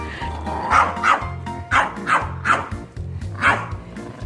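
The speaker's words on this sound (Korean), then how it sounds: "멍멍하는 건가?" A dog at a kindergarten pet hotel barks and yips repeatedly in a quick, uneven series of sharp, close barks over a low background hum, with no talking.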